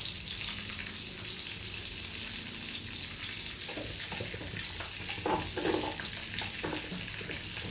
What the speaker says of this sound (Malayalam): ഏത് കറിക്കാണെങ്കിലും കടുക് പൊട്ടിച്ചാലാണ് അതിൻ്റേതായ ഇത് കിട്ടുള്ളൂ